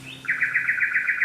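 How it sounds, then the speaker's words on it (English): A nightingale sings outdoors during a T'ai Chi class: a short rising note followed by a rapid, evenly pulsed trill, clear and fairly close, alone without any voices. "that's the nightingale"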